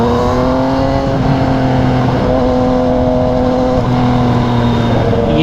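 A Subaru car drives fast past a motorcycle on a road in Japan, its engine a loud, continuous droning tone that holds steady and shifts slightly in pitch.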